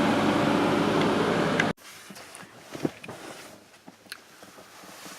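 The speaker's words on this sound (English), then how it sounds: "The air conditioner is noisier than the generator outside." A van's roof air conditioner runs as a loud, steady broadband roar, then cuts off abruptly partway through, leaving a quiet interior with faint clicks and small handling sounds.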